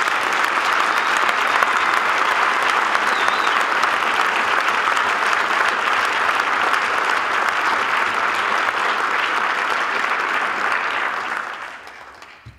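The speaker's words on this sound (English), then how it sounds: "So let's give him a round of applause." A large audience applauds Warren Miller at an evening event, a loud, dense, sustained roar of clapping that holds steady for about eleven seconds before tapering off at the end.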